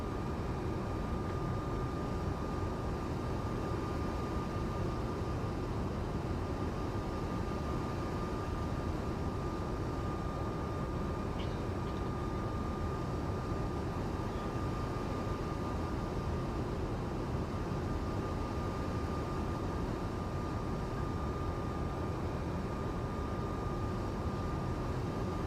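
Airbus A220 airliner in a flight simulator game during its takeoff roll on runway 17, a steady, loud engine roar with a constant high whine held the whole time and no speech.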